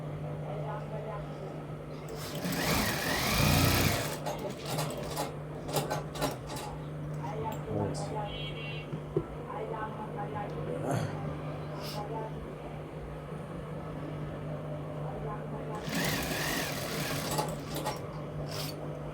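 A sewing machine stitches a pocket onto a shirt in two short whirring bursts, close by, between stretches of a person talking.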